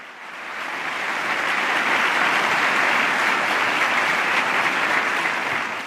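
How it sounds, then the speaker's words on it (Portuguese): Members of the United States Congress applauding Pope Francis during his 2015 address, a large hall full of sustained, dense clapping that swells and holds steady for several seconds. "aplaudem Papa Francisco."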